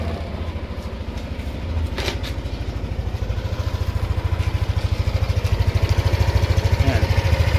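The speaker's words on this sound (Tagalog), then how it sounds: "Okay, pakinggan nyo yung makina." Motorcycle engine running on Extreme One racing oil idles close by with a steady, even putter that grows slightly louder and firmer toward the end, with no talk over it.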